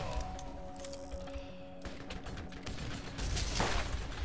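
Rapid-fire gunfire from the video game Borderlands crackles in dense bursts, with a louder volley near the end.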